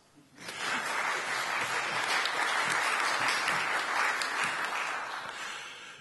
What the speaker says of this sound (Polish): Tu mogą być oklaski.